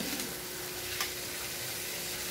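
Food frying in a pan while being stirred, a steady close sizzle with soft scraping of the utensil running throughout, no talking.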